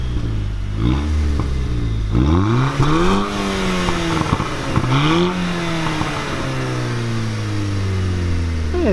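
Audi TT MK2 with a 200 hp engine revving repeatedly, rising and falling through several loud pulls with a crackling, popping exhaust, heard up close without speech.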